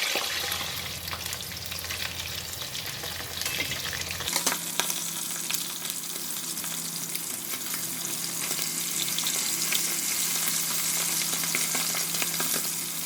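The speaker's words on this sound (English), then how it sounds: "Fry for just 3 minutes from each side, then we are done" Fish coated with turmeric powder frying in a pan: a steady, dense oil sizzle that grows brighter and louder partway through and continues evenly, close up and alone without talk.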